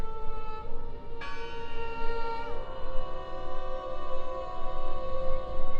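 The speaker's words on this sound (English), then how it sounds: "I heard the bell!" A church bell tolls in the Draugen video game, with long ringing tones that overlap and sustain, heard alone over a constant rumbling wind-like background.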